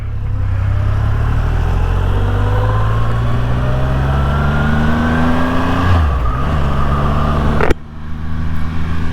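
A 2024 Triumph Rocket 3 motorcycle with a 2500cc three-cylinder engine runs loud and close, a deep steady drone with rising harmonics, a dip near the end, then a sharp gear-change break before the note resumes.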